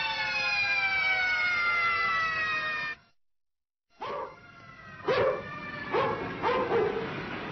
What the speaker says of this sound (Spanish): ¿Oyes esas sirenas? Son para ti.